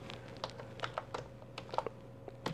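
Quiet, irregular clicking of keys on a computer keyboard, a handful of soft taps spread over a couple of seconds with a steady low hum underneath.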